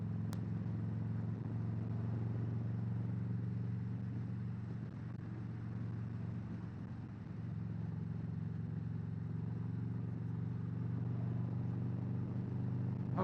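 A motorcycle riding along a road with its exhaust pipes giving a steady low engine drone, mixed with wind and passing cars. The drone dips briefly midway, and no one speaks.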